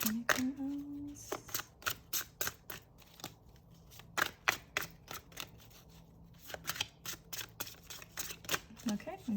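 A long tarot card deck is shuffled by hand up close, giving a run of crisp, irregular flicks and snaps, with brief voice sounds at the start and end.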